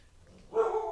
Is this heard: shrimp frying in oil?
no